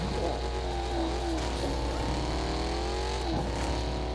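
Engine of a fast car in the video game Fortnite, a steady continuous drone with rising and falling pitch as it speeds along, loud and close throughout.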